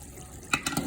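Spices stirred into ridge gourd cooking in a pan give a few soft scraping stir strokes over a low simmering hiss, brief and fairly quiet.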